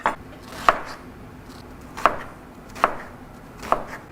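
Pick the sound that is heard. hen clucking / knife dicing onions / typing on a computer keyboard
knife dicing onions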